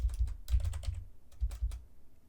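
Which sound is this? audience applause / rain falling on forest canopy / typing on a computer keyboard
typing on a computer keyboard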